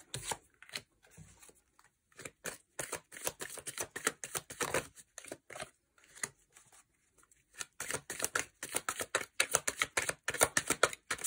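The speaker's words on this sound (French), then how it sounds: "on va rejouer les cartes" Playing cards being dealt out again one after another, a run of quick papery snaps and slides in uneven bursts with a short pause in the middle, close and fairly quiet.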